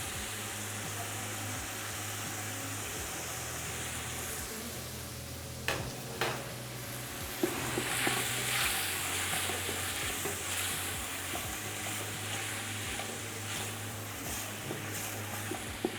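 Fresh tomato stirred into a sizzling Greek dish in a frying pan, a steady near sizzle under scraping spoon strokes that grow busier midway, with no talking.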